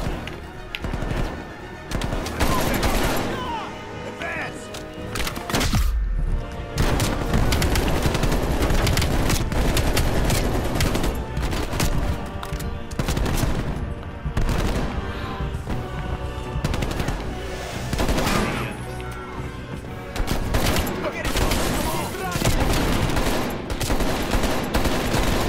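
Rapid AK-47 automatic fire in the Call of Duty Cold War video game, dense rattling bursts stacking nearly nonstop with booms and battle noise, loud throughout.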